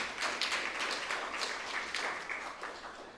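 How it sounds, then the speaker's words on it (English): Audience at a youth sitting applauding, a dense steady patter of many hands clapping close by throughout, with no talk over it. "So again, give yourselves a round of applause."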